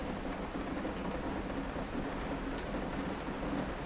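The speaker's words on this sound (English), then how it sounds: "That night it rained, and it rained, and it rained." Steady rain falls at night during a bicycle tour near Postojna, Slovenia, making a dense, even hiss of drops on surfaces that runs without a break and without voices.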